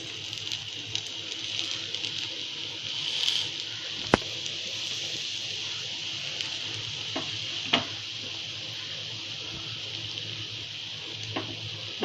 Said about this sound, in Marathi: एक 5 मिनिट दोन्ही साईडने चांगले खरपूस भाजून घेऊया आपण